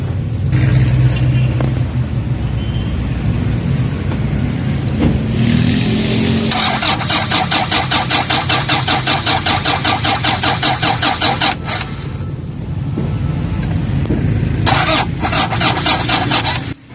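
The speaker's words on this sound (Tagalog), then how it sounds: "So ang gagawin natin, i-start yung makina." Toyota Fortuner diesel engine with a weak battery cranking in a rapid, rhythmic whir, pausing, then cranking again in a second burst, with a loud steady engine rumble running beneath throughout.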